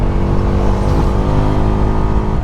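Husqvarna Svartpilen 401 motorcycle engine pulling hard through the gears, a loud, close, steady drone with rising revs and a brief dip at a shift, without a quickshifter.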